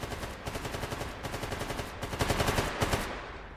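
Rapid automatic gunfire in the video game S.T.A.L.K.E.R. GAMMA, sustained bursts of closely spaced shots rattling on for several seconds with short pauses between bursts, fairly loud and dense.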